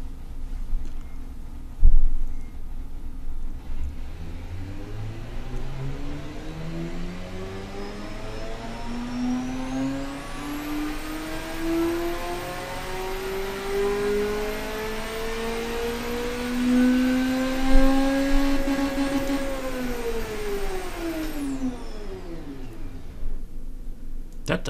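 Engine note from the video game Automation, built for a track-day supercar with a rev limit around 8600, climbing steadily in pitch through a long rev sweep and then falling away, loud and close with no talking.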